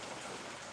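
Rain falling steadily on a mountaintop farm in November, a dense even hiss of drops close by with no other sounds.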